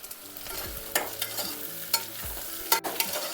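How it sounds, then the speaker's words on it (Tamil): Onions and large-cut potatoes frying in a pan while being stirred, with repeated scraping strokes over a steady low sizzle, close and alone with no talk. "நல்லா ஃப்ரை பண்ணணும்."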